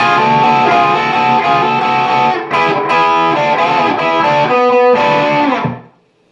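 A distorted electric guitar solo with effects, sustained bending notes and fast runs, loud and up close, ending in a brief fade to silence.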